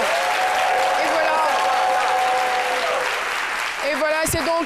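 A studio audience on a midday television programme applauds loudly for Doctor Philo, a steady wash of clapping with music playing over it and a brief tonal sweep near the end.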